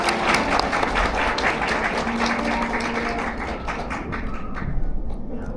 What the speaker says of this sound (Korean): 좋은 말씀해주신 아버님께 큰 박수 부탁드리겠습니다.